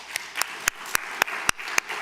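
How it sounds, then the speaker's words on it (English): Audience applause after a jazz piano performance at a keynote lecture. Only a few sharp, separate claps are heard, spaced roughly evenly over two seconds against a soft wash of background noise. "So another round of applause,"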